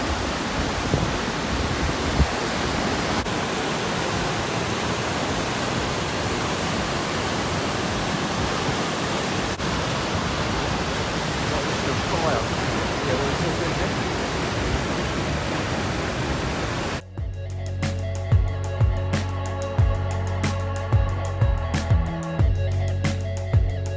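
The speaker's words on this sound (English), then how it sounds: "Waterfall number two." A waterfall near Rotorua, New Zealand, gives a steady, dense roar of falling water for most of the stretch, loud and close, before it cuts to a quieter scene with scattered knocks.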